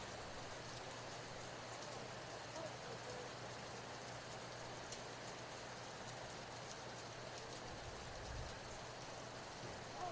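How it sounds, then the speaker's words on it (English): Steady rain falls on an outdoor baseball field at a college showcase game at Southeastern Louisiana University in Hammond, Louisiana: a continuous faint hiss with a low hum underneath and soft murmuring voices in the background. "I think that rain is just going to keep getting heavier"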